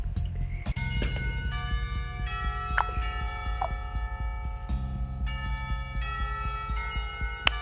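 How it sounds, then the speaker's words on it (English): School bells ring in the visual novel Katawa Shoujo: a chiming tune of clear, sustained bell tones struck in sequence, loud and alone over a low hum. "the bells ring"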